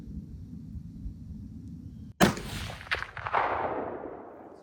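A single sharp, loud gunshot cracks out of a low rumbling background during outdoor target shooting, followed by a few seconds of ringing, reverberant noise that slowly fades.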